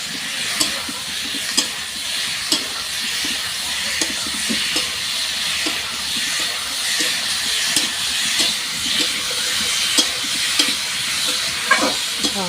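Chili, garlic paste and ginger paste sizzle and hiss steadily as they fry in a pan. Regular soft taps from stirring run through it, with no talking.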